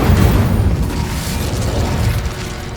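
The Incendio fire spell cast in Hogwarts Legacy, a loud low rumbling burst of flame with a sustained roaring whoosh that tapers slightly, heard alone without talk.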